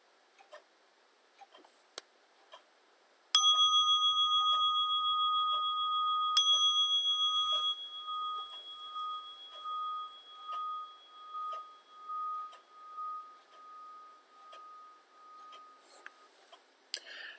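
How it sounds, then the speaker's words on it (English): A clear bell rings twice, a few seconds apart, each strike sustaining a long shimmering tone that slowly fades into a quiet, soft background. "At the sound of the bell, this will conclude today's meditation."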